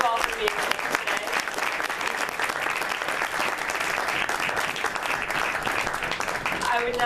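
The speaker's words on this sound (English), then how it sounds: "Let's give our elected officials and law enforcement representatives a big round of applause" Audience applauding at a press conference on threats to Jewish communal institutions, with elected officials and law enforcement present; steady, dense clapping fills the room for several seconds, with a few voices showing near the start and end.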